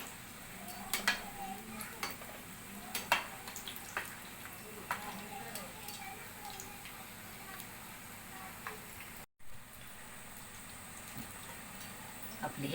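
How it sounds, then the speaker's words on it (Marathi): Corn kebabs shallow-frying in a pan, with a faint steady sizzle and occasional clinks of utensils against cookware, fairly quiet and close throughout, with a brief dropout near the end. "आपण हे दोन्ही साईडनी छान सगळे तांबूस रंगावर तळून घेणार आहोत."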